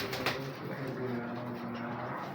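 Pet teddy pigeons coo softly and repeatedly in a steady low murmur, fairly close, with faint background noise and no speech.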